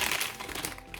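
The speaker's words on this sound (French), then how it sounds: "Je vais le déballer." Plastic packaging around a Seagate BarraCuda 2TB hard drive crinkles and crackles as it is unwrapped, a brief, close burst of rustling.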